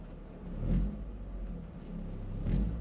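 Toyota GR Corolla with a Cusco pitch mount, engine blipped at idle: a low rumbling idle swells into two short revs, each rising and falling back, fairly quiet and without speech.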